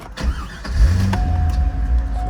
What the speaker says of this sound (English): as you can see, the car starts well